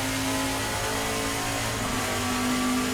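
A Trans Am race car at Portland heard onboard, its engine droning loud and steady, then the pitch drops briefly for an upshift from second to third gear before it pulls on again.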